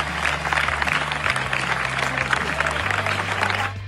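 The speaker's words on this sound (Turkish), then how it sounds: "Ülkemizden Yurt ve Tereddüt Çizgisi filmleri dünya premierini gerçekleştirdiği 80. Venedik Film Festivali'nde ayakta alkışlandı." Standing ovation at the 80th Venice Film Festival: dense, sustained applause from a large audience fills the hall steadily for several seconds, with a faint low hum beneath and a few murmured voices, before thinning out at the very end.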